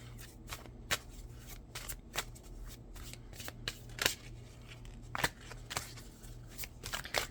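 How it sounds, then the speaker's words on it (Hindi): Tarot cards are shuffled and drawn by hand at close range, a series of quick papery riffles and sharp flicks in uneven bursts over a low steady hum. "आखिरी कार्ड निकालते हैं।"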